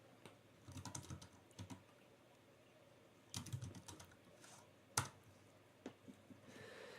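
Someone types a search on a computer keyboard, quiet clusters of keystrokes in uneven bursts with pauses and one sharper click, close and faint.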